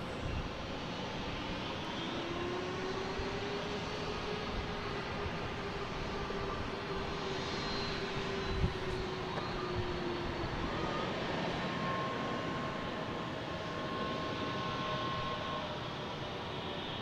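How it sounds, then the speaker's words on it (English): A JetBlue Airbus A220 departing Boston Logan for Denver gives a steady, broad jet roar with a slowly shifting engine whine, heard alone without talk. "the JetBlue getting ready to go to Denver. Flight 493 and A220."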